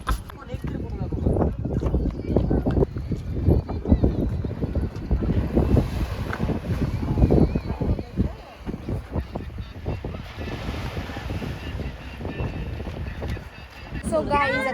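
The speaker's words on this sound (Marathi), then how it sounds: "आता आम्ही चाललोय बोट मध्ये" Riding in a boat along the Konkan coast, with a steady engine drone and gusty wind buffeting the microphone, while people talk over the noise throughout.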